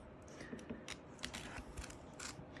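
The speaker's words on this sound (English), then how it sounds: "We're going to be cutting that whole circle out." Scissors snip around the stitched edge of an embroidered fabric circle for an in-the-hoop skate zip bag, producing faint, close crisp clicks and crunching cuts in a quiet room.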